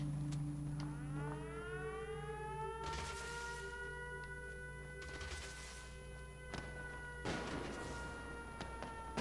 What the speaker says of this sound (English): they run to the siren, and it alerts everybody